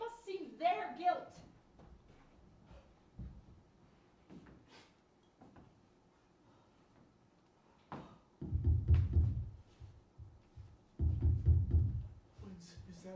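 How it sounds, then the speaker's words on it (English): Knocking on a door during a stage play of Macbeth comes as two bursts of heavy, low, repeated thuds later on, after stretches of actors speaking and quieter stage sounds. "Whence is that knocking?"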